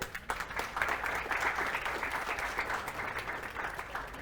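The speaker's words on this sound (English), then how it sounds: "Give a huge round of applause for them." A university audience at an alumni entrepreneurs panel discussion gives the panel a steady round of applause, a continuous mid-level crowd clapping heard from within the room.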